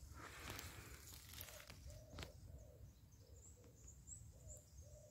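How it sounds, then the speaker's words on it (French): Repeated soft hooting calls, like an owl or dove, sound at a steady pace over a rustling outdoor background, with a few higher chirps mixed in. "Je sais pas si tu entends les oiseaux."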